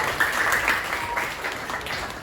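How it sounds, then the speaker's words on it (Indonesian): Classroom students applaud after their teacher asks for a round of hands, a steady dense patter of clapping lasting a couple of seconds at moderate level, with no voices over it. "Tepuk tangan dulu dong"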